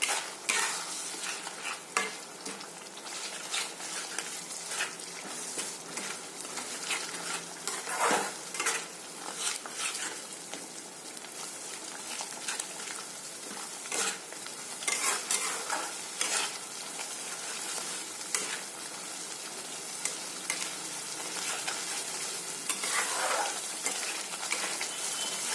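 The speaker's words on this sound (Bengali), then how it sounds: "আর এখন ভালো করে মশলাটারে আমরা ভালো করে কষাই নিই।" Spice masala paste sizzling and being stirred in a pan for rohu fish cooked with coconut, with continuous frying hiss and frequent clinks and scrapes of a utensil against the pan, close, no voices.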